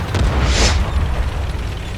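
A loud, booming artillery explosion in a video game, one heavy burst with a bright crack near the start, then a rumbling tail that lingers, close and alone.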